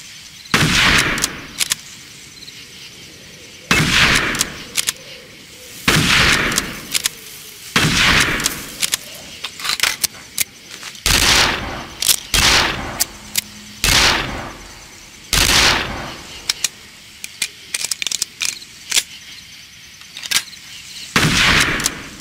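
Old guns firing at the Battle of Little Bighorn in the video game Darkest of Days, with loud, close, single shots spaced every second or two, each a sharp crack with a short decay.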